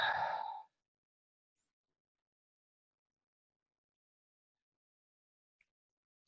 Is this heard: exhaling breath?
yes